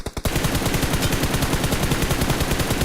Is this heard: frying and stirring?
no